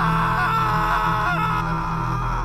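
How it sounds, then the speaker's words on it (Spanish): A drawn-out, strained cry or scream, muffled under steady droning background music, continuous for a couple of seconds. "Escuchamos un grito."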